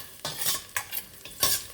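Garlic fries in an oiled pan for pork pata, a soft sizzle broken by three or four quick scraping stir strokes of a spatula, close and clear.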